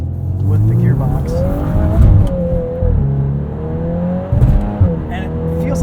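A 2022 Volkswagen Golf R with a DSG gearbox in drift mode revs hard, its engine note rising and bouncing off the rev limiter while the tires squeal through the slide. The sound is loud and close, recorded from inside the car.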